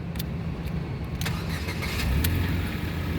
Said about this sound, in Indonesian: Sekarang kita coba saja start mobil ya.